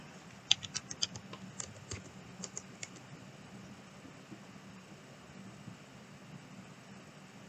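Keys clatter on a computer keyboard as an avatar's name is typed during a mesh fashion class: a short burst of quick, light clicks in the first three seconds, then only quiet room hiss.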